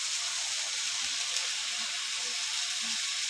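Spices sizzling in hot oil while being sautéed for Bengali prawn malai curry, a dense, steady hiss with faint occasional stirring taps throughout.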